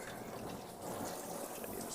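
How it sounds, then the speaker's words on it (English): Braised pork belly held in tongs and rinsed under a running kitchen tap, a steady close splash and gush of water that swells slightly louder partway through, with no talking. "I'm just going to rinse it off real quick"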